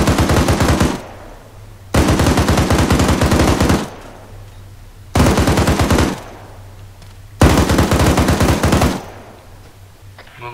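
Humvee-mounted machine gun in the video game Arma 3 fires four long, loud sustained bursts, each about one to two seconds, separated by short pauses with a low engine hum underneath.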